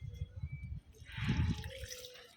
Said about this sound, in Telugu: ఈ వాటర్ని డైరెక్ట్ సాయిల్ భాగంలో ఇచ్చేసేయండి